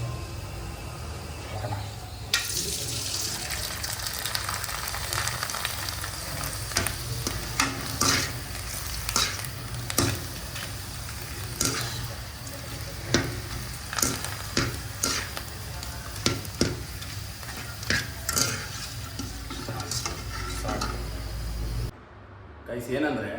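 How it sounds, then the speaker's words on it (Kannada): Four papads frying in hot oil for a Udupi dal meal, a steady close sizzle with scattered crackles and pops throughout, with a voice talking over it. "ಅದಕ್ಕೊಂದು 4 ಹಪ್ಪಳ ಹೊರಿತಿದ್ದೀನಿ."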